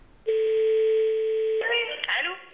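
A played phone call opens with a steady, clear telephone tone held for over a second, then gives way to a voice speaking over the line with a muffled, narrowband quality.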